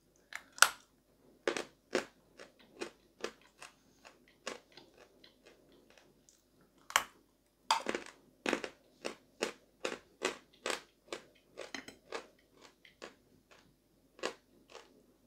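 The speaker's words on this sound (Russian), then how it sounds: "Давайте откусим и проверим, что у нас в разрезе будет." Turkestan green chalk is bitten and crunched in a long series of sharp, close, dry cracks. The bites come at irregular intervals with brief quiet gaps between them.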